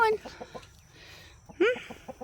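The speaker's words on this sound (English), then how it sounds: "We'll take a little trip over here by the chicken coop." Chickens cluck near a backyard chicken coop with a rooster among them, a few short close calls bursting out at the start and again midway, with soft clucks in between.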